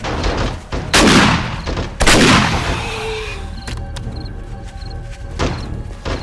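Gunshots from the zombie survival game 7 Days to Die during a four-player co-op base defense at a garage: two heavy, booming blasts close together near the start, then a lighter burst of shots toward the end, with faint talk between.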